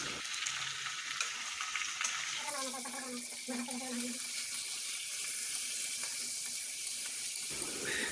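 Pork fries in a pan over onions, a close and continuous sizzle with a watery, hissing texture that runs throughout, broken by a few scraping and clinking sounds.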